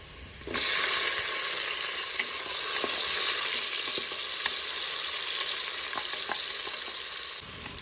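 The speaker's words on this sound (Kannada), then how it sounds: "ಈ ಸಮಯದಲ್ಲಿ ನೋಡಿ 1 ಟೊಮೆಟೊವನ್ನು ಹಾಕ್ತಾ ಇದ್ದೀನಿ" Tomato goes into a pan of onions and cashews already frying, setting off a loud, steady sizzle that holds for several seconds with faint stirring clicks.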